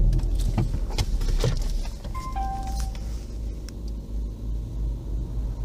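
A Vauxhall Opel Meriva B is switched on indoors in the cabin, with a steady low rumble, a few soft clicks and short electronic chime tones near the middle, all fairly quiet and without talk.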